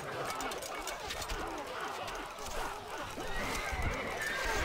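A horse whinnies amid busy, clattering sounds in the game Stronghold: Crusader, with hoofbeats and a rising wash of noise toward the end.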